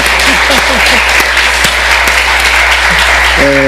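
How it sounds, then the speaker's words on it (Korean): A church congregation at a Sunday service claps loudly and continuously, a thick close burst of applause with a faint voice under it throughout. "박수 한 번 더 보내주시기 바랍니다."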